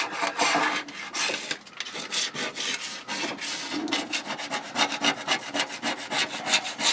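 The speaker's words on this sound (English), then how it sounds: "or some metal that's got a sharp edge, and then you just come along and then you just scrape the paint" Sharp metal edge scraping dried paint off a model railway layout, a steady run of close, rasping back-and-forth strokes with no talk.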